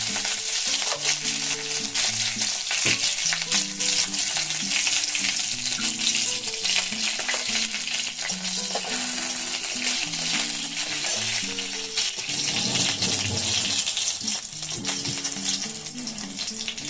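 Mustard seeds and green chilli fry in oil in a wok, a continuous crackling sizzle running throughout beneath steady background music, with no talking.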